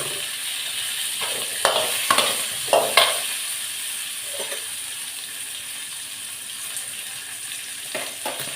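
Cauliflower sautés in oil in a pan for a cauliflower fry, with a steady close sizzle throughout. Several sharp clinks and scrapes of stirring stand out, clustered early and again near the end.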